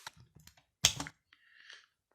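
Typing a username on a computer keyboard: a few soft scattered key clicks, then a sharper cluster of taps near the middle and a light clatter toward the end, close and quiet with no voices.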